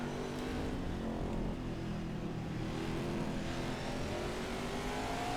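Race car engine in NASCAR 21 at Martinsville, a steady loud droning roar held at constant revs with road and wind noise blended in, running continuously without voices.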